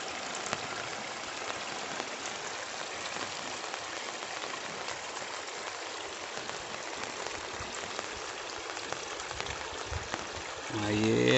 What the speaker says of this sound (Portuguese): Aí é água que vem aí no riacho.